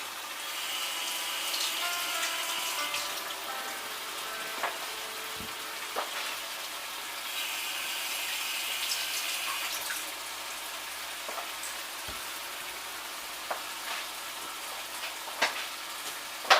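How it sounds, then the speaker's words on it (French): Cucumber and tomato rinsed under a running kitchen tap, a steady hiss of water spraying for several seconds with a few light knocks and clatters of handling at a sink. "Je vais le rincer."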